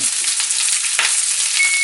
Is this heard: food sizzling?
yes